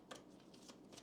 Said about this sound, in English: I'll start off by pulling some oracle cards for you